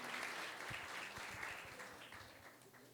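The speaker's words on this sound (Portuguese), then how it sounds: "Por favor, salva de palmas para o Lucas" A group at a carnival church camp claps for a person named Lucas, a faint, fairly brief round of applause that gradually tapers off.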